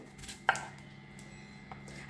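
A knife cuts a peeled potato into thick strips on a board, giving one clear quiet chop and a fainter second one over a low steady background hum.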